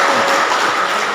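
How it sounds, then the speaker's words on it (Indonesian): Audience applause at a school orientation event for hospitality and culinary students, a steady broadband clapping wash sustained and fairly loud throughout. "Tepuk tangan."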